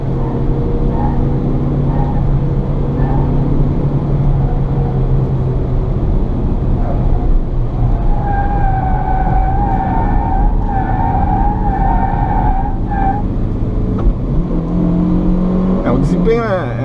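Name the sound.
Fiat Mobi 2017 car cornering on a test drive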